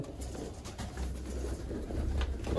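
A breeder pair of Sialkoti pigeons coos softly in low, throaty rolls over steady hiss and background noise, fairly close with no talking.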